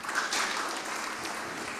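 Audience applause at a village community planning meeting in Mojokerto, a short burst of many hands clapping together, fairly soft and even, lasting under two seconds.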